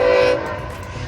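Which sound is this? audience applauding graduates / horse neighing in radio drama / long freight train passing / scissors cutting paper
long freight train passing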